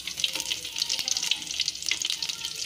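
Garlic cloves and cumin seeds sizzle steadily in mustard oil in a kadhai, a continuous bright frying hiss with faint stirring scrapes.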